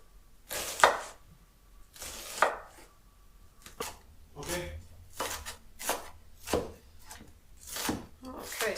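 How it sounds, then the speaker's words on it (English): Onions are chopped on a cutting board in uneven bursts of knife strikes, close and fairly quiet, with pauses between strokes. "onion is chopped up"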